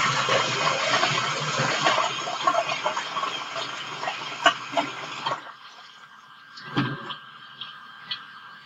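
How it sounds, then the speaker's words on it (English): Fresh mozzarella balls are lowered into a deep bowl of ice water, giving soft watery splashes and sloshing for several seconds, then a quieter stretch broken by a few small drips and plops. "And we're going to submerge them in there."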